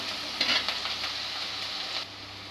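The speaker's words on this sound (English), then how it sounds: "Just saute them." Onions sautéing in a pan for a matar ghugni, a steady close sizzle with a brief burst of stirring near the start, then quieter toward the end; no talking.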